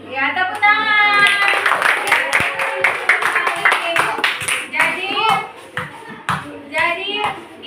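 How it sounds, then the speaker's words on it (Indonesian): A class of primary school children claps hands together after a group presentation in a science lesson, bursts of rhythmic clapping mixed with children's voices and chatter that trail off into scattered claps. "Ya, tepuk tangan."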